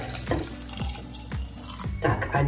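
Water is poured and measured into a container while homemade apple vinegar is being made, coming as a series of splashing, gurgling bursts close by, with someone briefly speaking.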